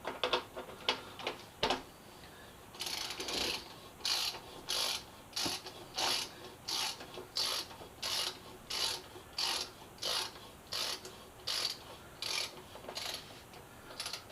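A hand ratchet tightens a 12 mm bolt on a crashed Yamaha FZ6R motorcycle being rebuilt, giving a close, quiet run of about a dozen evenly spaced rasping clicking strokes after a few scattered taps.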